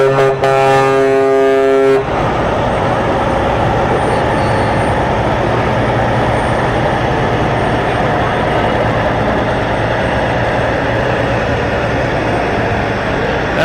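A Peterbilt truck rolls slowly past in a Labor Day parade, its loud, steady engine rumble dominating throughout, preceded by a brief horn blast at the start.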